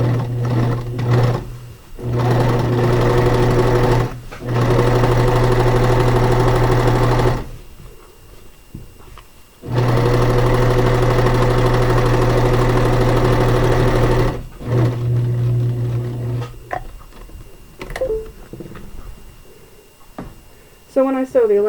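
A sewing machine runs in long steady bursts while stitching elastic into the casing of a serged cloth diaper, its motor humming loudly for several seconds at a time with short pauses and handling noises between runs.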